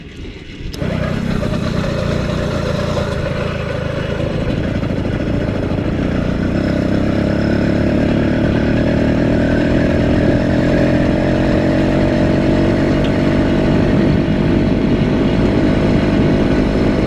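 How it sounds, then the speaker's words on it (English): A two-stroke motorized bicycle engine catches after a brief moment of quiet and then runs steadily, a loud, buzzy drone that holds for the rest of the stretch. "Slowly give it gas till the motor takes off and goes."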